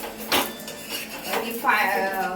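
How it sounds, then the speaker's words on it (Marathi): A dosa is flipped on a tava griddle pan, with a metal spatula clinking and scraping against the pan in a few short, close strokes. "तर आता आपण याला पलटी मारू."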